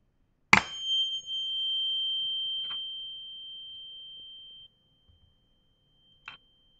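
Homemade tuning fork ringing at about 3000 hertz: a sharp strike followed by a pure, sustained tone that slowly fades, then two more brief taps bringing short rings, clear and close in a quiet room.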